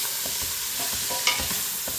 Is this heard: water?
no